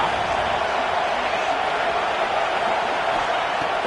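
A roaring football stadium crowd during an Eagles game, a steady, dense wall of noise that holds loud and unbroken throughout with no distinct voices standing out.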